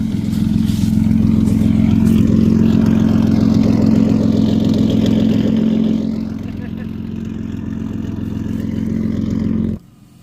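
A straight-piped green V6 five-speed car engine drones loud and close with a raw exhaust rumble, easing down partway through before stopping abruptly near the end.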